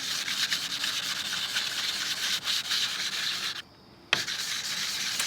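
A knife edge is worked over a homemade sandpaper sharpening stone in a continuous, rasping, scraping rhythm of close strokes, broken by one brief silent pause before the grinding resumes.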